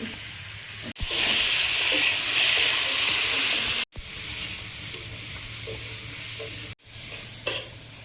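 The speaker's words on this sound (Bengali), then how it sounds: "আলুটা একটু ভেজে নিয়েছে, পুঁই শাকের ডাঁটা দিয়ে দিচ্ছি" Potato fried with Malabar spinach stems in a pan sizzles strongly and steadily, with scraping stirs and clatters, interrupted by a few abrupt short breaks.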